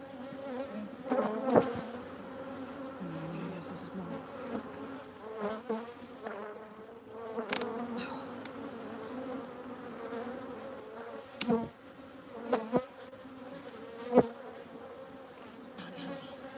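A big drone honey bee buzzes during a hive inspection, its steady droning hum continuing close by with a few louder swells and sharp clicks as frames are handled.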